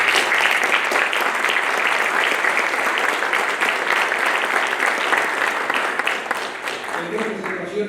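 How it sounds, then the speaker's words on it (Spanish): Steady, dense applause from an audience at a book presentation fills the room for several seconds, slowly tapering toward the end. "distinguido maestro Carlos Jaico Carranza, a quien renovamos nuestro singular aprecio con un fuerte aplauso."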